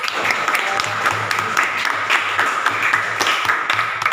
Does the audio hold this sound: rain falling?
no